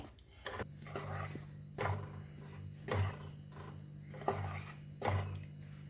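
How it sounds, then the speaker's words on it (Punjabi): Wheat flour stirred and scraped in a wok over a slow gas flame, giving repeated rasping strokes about once a second under a steady low hum. "ਆਟਾ ਆਪਾਂ ਕੜਾਈ 'ਚ ਪਾ ਲਿਆ ਗੈਸ ਔਨ ਕਰ ਲਿਆ ਗੈਸ ਆਪਣਾ ਹੈਗਾ ਸਲੋ ਸਲੋ ਤੇ ਆਪਾਂ ਨਾ ਆਟੇ ਨੂੰ ਭੁੰਨਾਂਗੇ"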